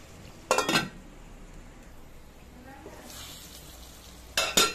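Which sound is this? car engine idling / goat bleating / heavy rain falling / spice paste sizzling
spice paste sizzling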